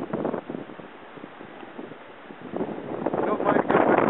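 Strong wind buffeting a microphone out on a fishing boat, rough gusty rumble rising and falling, strongest near the end.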